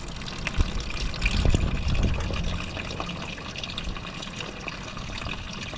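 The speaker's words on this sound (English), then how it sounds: "I think we can just let this out, right? It's water." Water drains from a hydrolocked BMW M3 engine, splashing and trickling steadily, with a louder gush early on, then settling into a constant pouring flow.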